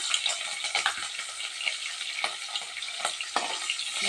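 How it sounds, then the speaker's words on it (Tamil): Green chilies and curry leaves hit hot oil already popping with mustard seeds and urad dal, a tempering for ragi flour sundal; a steady, close crackling sizzle with sharp pops continues throughout, with no talking. "இப்போ வந்து நம்ம பச்சை மிளகாயும் கருவேப்பிலை ஆட் பண்ணிக்கலாம்."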